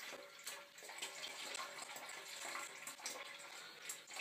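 Liquid siphoning out of a 50 litre demijohn after a still has been stripped down, a steady, close, hissing trickle and gurgle of flowing liquid running continuously without pause.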